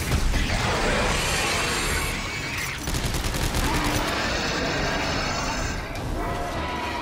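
Dense video-game gunfire in Dead Space 3, loud rapid bursts of shots with crashing impacts, sustained and close, with players' voices talking over it.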